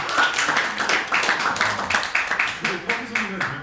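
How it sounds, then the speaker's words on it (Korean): Rhythmic congregation clapping at a Friday night church service, a run of evenly spaced sharp claps from a group, fairly close, with voices mixed in. "박수."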